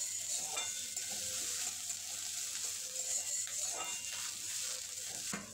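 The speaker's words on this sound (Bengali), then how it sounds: "দিয়ে দেব একটা পেঁয়াজ কোচানো, লাল লাল করে ভেজে নেব।" Chopped garlic and sliced onion fry in a modest amount of oil for a cabbage Manchurian, giving a steady, close hiss of sizzling with occasional scrapes of stirring and a brief clink near the end; no talking.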